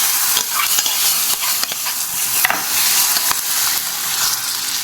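Hot tempering is poured into a simmering radish gravy and stirred, giving a loud, steady sizzle and crackle with occasional scrapes of the spoon throughout.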